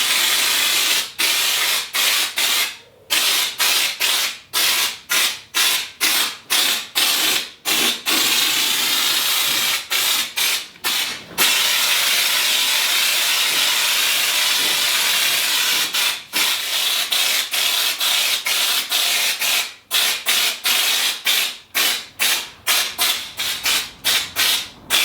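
A paint spray gun sprays a test pattern onto paper before coating a fabricated off-road steel winch bumper in a garage. The hiss is loud and close, cut into many short bursts with brief gaps.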